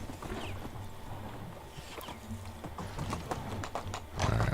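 Horse hooves in the Medieval Dynasty video game: quiet, rhythmic clip-clop of hoofbeats at moderate distance, with a louder thump near the end.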